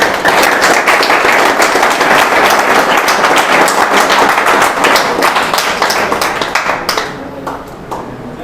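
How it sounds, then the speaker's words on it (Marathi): A classroom audience at a coaching class in Latur bursts into loud, dense clapping that holds steady for several seconds, then thins and fades toward the end. "एकदा जोरदार टाळ्या"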